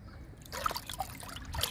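Orange peel liquid splashes and trickles briefly onto flower plants, a short close pour with a few distinct drips.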